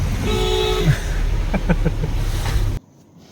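A car on a winding mountain road to Triyuginarayan rumbles steadily with engine and road noise. A short horn toot sounds partway through, then the sound cuts off abruptly.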